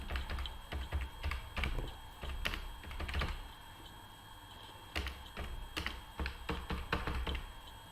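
Quick keystrokes on a computer keyboard entering an address into Tally Prime accounting software, irregular bursts of clicks with short pauses, close and moderately loud, no voices.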